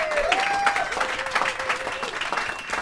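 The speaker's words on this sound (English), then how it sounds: "we a round of applause for Exclaim" Moderate applause from a small studio or live audience for a magazine's 25th anniversary, steady clapping with a faint whistle-like tone running through it.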